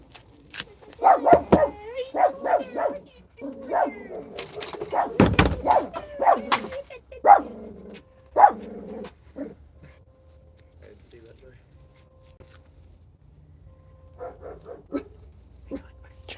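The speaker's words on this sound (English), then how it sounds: "there's no need to bark" Dog barks in several sharp, close bursts mixed with yips and whimpers indoors, clustered early then tapering to occasional quieter sounds, while a person talks intermittently.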